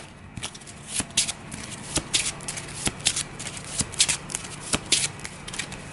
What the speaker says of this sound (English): Then at the end of the investigation phase, Joe's hunch deck shuffles